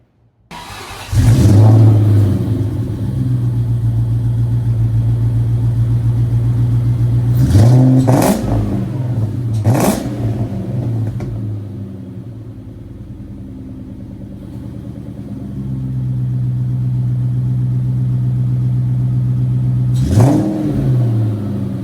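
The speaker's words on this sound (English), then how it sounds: "go ahead and start the car, make sure she fires up" A car fitted with a Kenne Bell supercharger and a Boost-A-Pump cranks and fires up, then settles into a loud, steady idle broken by several sharp revs, heard up close with no talking.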